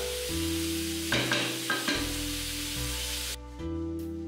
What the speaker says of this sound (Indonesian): Ini tidak boleh matang juga, jadi tumis sebentar.